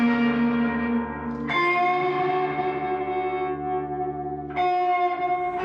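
Electric guitar played through a Philly 20 watt amp with lush reverb, sustained chords ringing with rich harmonics and a long tail, struck anew twice, close and alone with no voices.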